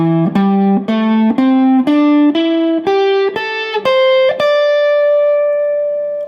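Electric guitar plays a minor pentatonic scale in the D-shape position for blues rock lead, about a dozen distinct picked notes climbing steadily in pitch, the last one ringing out and sustaining alone.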